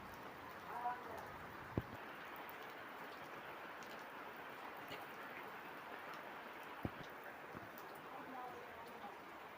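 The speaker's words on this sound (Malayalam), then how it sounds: "കുഴപ്പമില്ലാത്ത രീതിയിൽ മഴ പെയ്യുന്നുണ്ട്." Steady rain falls at a good pace, a soft, even hiss that stays faint and distant, broken by a couple of sharp clicks.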